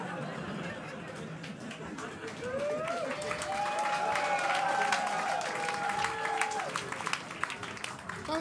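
Comedy club audience clapping and chattering at a stand-up show, applause swelling in the middle and staying sustained, with scattered voices and laughter mixed in.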